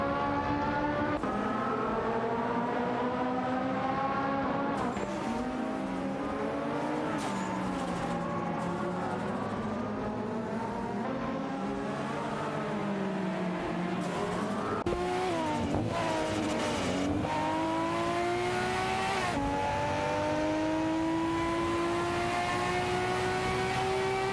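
Race cars in a sim racing video game, engines howling continuously with revs climbing and dropping through shifts, several cars close together, a brief tire squeal, loud and without talk.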